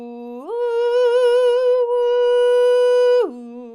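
A voice imitates wind blowing leaves with a single sustained sung tone that sweeps up, holds steady, then slides back down and stops.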